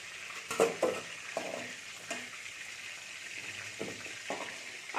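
Oil sizzles softly and steadily in a pan while a utensil scrapes and clinks a few times as fried potatoes are lifted out.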